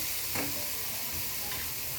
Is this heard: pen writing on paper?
no